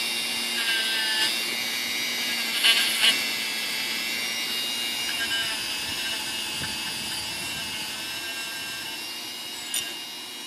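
A Dremel rotary tool scrubs rust off metal trim on a 1963 Airstream trailer, giving a steady high-pitched whine with a constant grinding hiss and a few brief louder scrapes, heard alone at close range.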